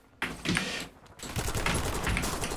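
Video game gunfire breaks out suddenly as dense, rapid bursts of shots that continue loudly and steadily after a brief lull.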